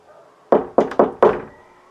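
Four sharp knocks on a wooden door in quick succession, close and crisp, with a short pause before the last, used as a sound effect over a quiet background.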